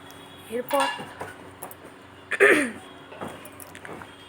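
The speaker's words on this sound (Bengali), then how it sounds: "এরপর আমি থালি সাজিয়ে নিচ্ছি।" Steel dishes and cutlery clink and clatter as a thali plate is arranged, with two louder bursts of knocking and scraping close by, separated by quieter gaps.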